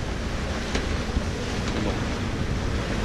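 Strong wind of 35-37 knots roars across the microphone while waves rush and break around a sailing boat off Cap Corse, a dense, continuous wash of noise with no voices.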